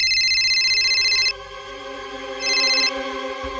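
A phone ringtone plays in two bright, repeating electronic bursts separated by a short quieter gap, close and clear, with no talking.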